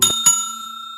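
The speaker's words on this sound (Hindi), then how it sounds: "सब्सक्राइब करते वक्त ना घंटी बजा" Two quick bright bell dings used as a subscribe-reminder sound effect, the second strike ringing on with a clear sustained metallic tone that slowly fades.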